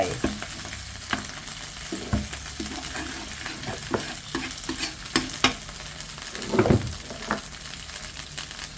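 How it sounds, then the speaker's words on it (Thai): Boneless chicken thigh stir-fries with Thai curry paste in a pan, a steady sizzle broken by frequent close scraping and clattering strokes of the spatula, one louder rasping stir near the end. "ก็ใส่ไก่ลงไปค่ะ อันนี้เป็นสะโพกไก่นะคะ ไม่มีกระดูกนะคะ"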